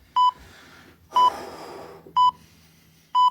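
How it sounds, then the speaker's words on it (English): A workout interval timer sounds four short, loud electronic beeps about a second apart, with faint breathing and movement between them. "So we'll let it beep"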